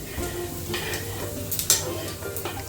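Ghee rice ingredients frying and sizzling in a pan while being stirred until golden, with a steady sizzle and a few scraping stirs and utensil knocks close by, no talk.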